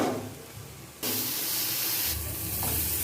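Wild arum (kharkol) leaf paste cooking on a high flame as its water boils off, a steady hiss that jumps louder after a second and stays as a dense, close, continuous steamy sizzle.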